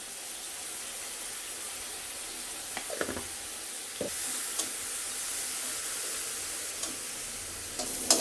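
Shrimp seasoned with salt and turmeric fry in a pan with a soft, steady sizzling hiss, broken by a few light stirring knocks.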